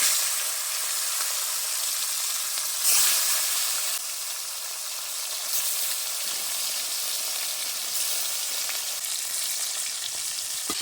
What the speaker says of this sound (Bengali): মাছগুলো আমি একে একে ভেজে নেব